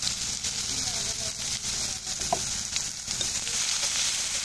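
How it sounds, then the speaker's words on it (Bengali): Chopped onions frying in oil with cinnamon sticks, white cardamom and whole cumin, a steady close sizzle that holds evenly throughout with faint stirring touches and no talk over it. "পেঁয়াজটাকে হালকা ভেজে নেব।"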